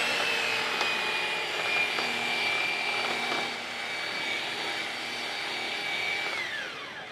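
A handheld polisher runs at its lowest speed setting, spreading headlight polish compound in a garage; a steady, continuous whine holds throughout and tapers slightly near the end.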